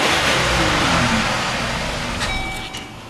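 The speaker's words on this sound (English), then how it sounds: "Give it a rev." A Pontiac Grand Am engine revs through its stock exhaust, a loud, continuous rumbling roar that sustains and then eases slightly, with no talk over it.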